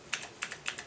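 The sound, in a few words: typing on mechanical keyboard with Cherry MX switches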